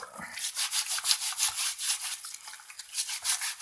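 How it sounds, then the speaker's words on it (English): Rhythmic wet scrubbing and rubbing of a Subaru Outback seat belt in soapy water, a brisk back-and-forth swishing repeated steadily, close up with no talking. "Give it a little bit of a scrub."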